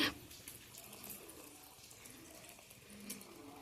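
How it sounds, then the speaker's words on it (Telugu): Water is poured off boiled lentils in a kitchen, a soft, steady trickle and splash that runs for a few seconds, faint and close. "ఇప్పుడు ఇలా నీళ్ళు అయితే వంచేయాలి"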